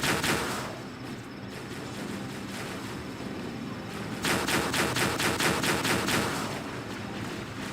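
Turret gunfire in Halo: Combat Evolved, rapid automatic bursts from a heavy mounted weapon. It rattles steadily at moderate level, then grows louder and more regular toward the end amid battle noise.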